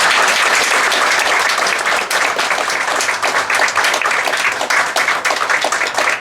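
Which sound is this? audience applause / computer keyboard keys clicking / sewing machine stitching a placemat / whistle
audience applause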